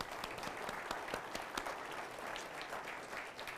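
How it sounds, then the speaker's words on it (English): A county judge/executive public debate audience gives a round of applause, a steady spread of individual hand claps, some sharp and distinct, sustained for several seconds at moderate volume. "Give yourselves a big round of applause and give the staff a big round of applause."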